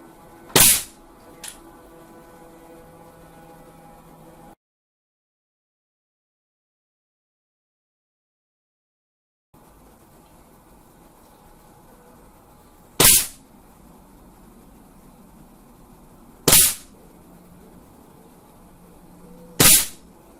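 Four sharp .22 rifle shots from a Chinese B1 rifle being zeroed at 10 yards, widely and unevenly spaced, each a loud crack with a brief tail over quiet outdoor background, with a stretch of total silence between the first and second shots.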